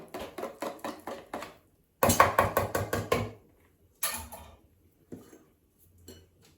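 A spoon beats cake batter with flour in a bowl, giving quick rhythmic knocks and scrapes in close, fairly loud bursts that are separated by silences and end in a few sparse taps.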